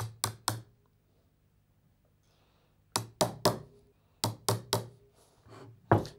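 A sharp chisel tapped into wood with a mallet while marking out a workbench joint: three quick groups of two or three crisp, close knocks separated by quiet pauses.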